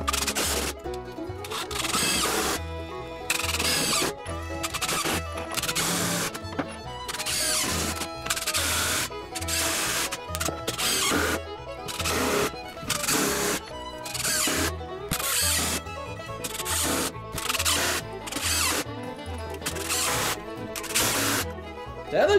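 Power drill driving screws into a wooden roller coaster track rail, loud repeated bursts of whirring with short pauses between, a steady rhythm of fastening close by with no talking.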